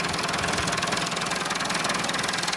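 An old Toyota Corolla's four-cylinder, non-turbo engine idles with a steady, fairly loud rumble and a light ticking knock, running continuously with no talk.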